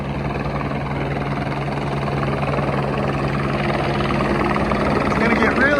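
A helicopter sets down on a hospital rooftop helipad six or seven floors up, close by, with a loud, steady rotor and engine roar that builds slightly as it settles.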